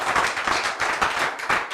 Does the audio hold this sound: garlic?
no